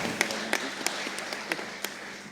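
Sparse, light clapping at a municipal council meeting after a deputy mayor is announced, a handful of individual claps spaced unevenly against a quiet room rather than full applause.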